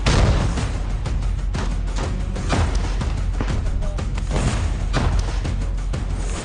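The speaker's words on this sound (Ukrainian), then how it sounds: "Постріл!" Heavy artillery fire in wartime Ukraine: a rapid run of booming blasts, one after another, loud and rough over a constant rumble.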